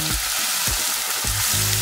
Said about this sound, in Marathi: कांदे घालायचे।